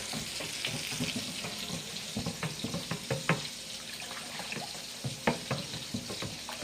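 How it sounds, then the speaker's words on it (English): A kitchen faucet runs steadily while hands are washed after making gravy for Salisbury steak, a continuous close splash broken by irregular clatters and thumps. "Wash my hands off."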